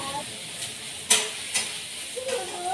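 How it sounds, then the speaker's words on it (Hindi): Onions fry in a hot kadhai with a steady sizzle throughout, broken by a few sharp stirring scrapes. Faint kitchen clatter sits near the end. "इधर कढ़ाई गर्म, उसमें डाल दिया प्याज और फटाफट इसको भूनने के लिए प्याज को रख दूँगी।"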